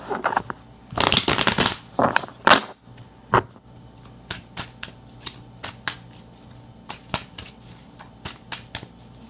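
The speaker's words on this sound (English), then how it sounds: "I'm going to pull 4 cards for the overall energy." Tarot cards being shuffled and pulled for a July love reading: a dense riffling burst early on, then a run of crisp, separate card snaps and flicks at uneven intervals, close and clear, with no talking.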